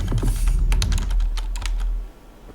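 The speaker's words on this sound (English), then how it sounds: "you have to keep tapping your S." Computer keyboard key, the S key, tapped repeatedly in quick, uneven clicks close up over a low hum that cuts out near the end.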